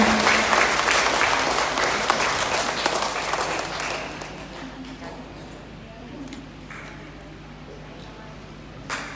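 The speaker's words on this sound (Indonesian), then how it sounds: "Kita tepuk tangan." Dense audience applause at a community parenting event in Kabupaten Malaka, loud and crowded at first, then thinning and fading into a quieter room over the rest of the stretch, with a faint voice underneath.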